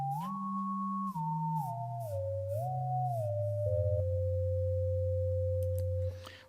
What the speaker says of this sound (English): you can hear two tones are still coming out because I have two sine tones